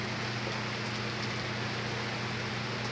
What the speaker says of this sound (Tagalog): Oh, malakas yung ulan guys.